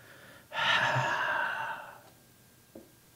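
A voice imitating a man's heavy breathing: one long, loud, breathy exhale lasting about a second and a half, fading out, followed by a short faint puff near the end.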